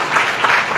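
An audience applauds at a speech during a Rashtriya Bauddh Mahasabha gathering: a brief, dense wash of steady clapping, fairly loud and even throughout.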